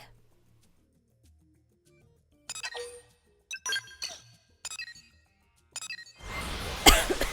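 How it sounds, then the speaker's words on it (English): A series of short, sharp coughs comes in separate bursts after a quiet stretch, close and fairly loud, followed by a harsh noisy swell at the end. "Sorry for the cough."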